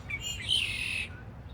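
Small black birds singing outdoors in San Francisco's Sunset District, a burst of bright twittering chirps and trills lasting about a second, fairly close, over low background rumble.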